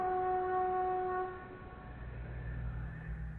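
Slowed-down wingbeat of a bird, rendered as a deep, foghorn-like blast: a loud sustained tonal horn that fades after a second or so into a low rumbling wash, with no talk.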